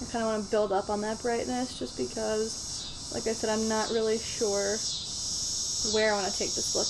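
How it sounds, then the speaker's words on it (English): Cicadas buzz outside in a continuous high, shimmering drone that sits steadily beneath someone talking close by throughout. "it is an insect. It's the cicadas."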